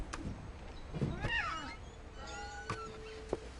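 A cat in the video game What Remains of Edith Finch gives several short, close meows, some rising and some drawn out, spaced across a quiet background.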